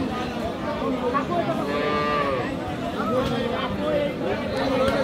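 Sahiwal cattle at a rural livestock market in Aftabganj, Dinajpur, a cow lowing in drawn-out moos close by, set against a constant babble of people talking and haggling in the crowd.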